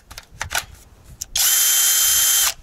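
A Deko cordless screwdriver powered by a Makita battery whirs at full speed in one steady, close burst lasting about a second, preceded by a few short clicks and handling taps.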